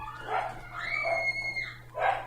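Dogs barking downstairs in a house, three muffled bursts spaced about a second apart, heard over a steady low hum from a computer setup while a game is played.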